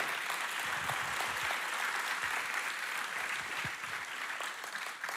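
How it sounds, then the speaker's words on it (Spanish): A congregation claps during an evangelical Sunday sermon in church, a continuous wash of applause from many people in a reverberant hall, steady and fairly loud, easing slightly toward the end. "Un aplauso para el Señor."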